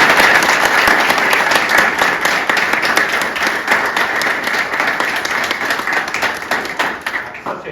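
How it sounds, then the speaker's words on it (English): Steady applause from a school board meeting audience, dense and even clapping that holds for several seconds and slowly thins toward the end, with no talk over it. "Let's give them a round of applause."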